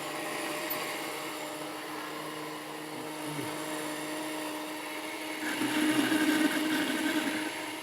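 An electric kitchen blender runs steadily in a home cooking setting, a continuous motor whine that grows louder and harsher near the end, with no talking over it.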